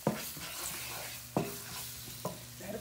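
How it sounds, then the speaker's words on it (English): Onions and green peppers cook in a pan, with a soft steady sizzle running under a few sharp clicks and scrapes from stirring. No one speaks. "you just wanna let them cook and brown some, you know, your onions and your green peppers"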